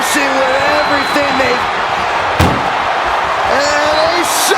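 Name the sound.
ambulance door slamming shut in WWE 2K video game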